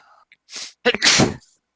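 A single person sneezes during a tabletop role-playing game session, a short breathy intake followed by a loud, close burst, alone with no talk around it.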